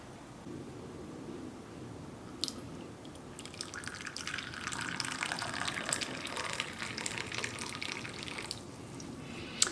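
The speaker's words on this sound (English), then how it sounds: "It's time to push down the plunger and pour it out." Brewed cacao from a plunger press pours in a faint, thin trickling stream into a cup, with a soft liquid splash rising partway through; quiet and close, no talk.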